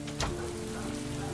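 Steady rain falling in the video game Heavy Rain, a soft continuous hiss of drops on surfaces with a brief louder splash near the start, heard alone.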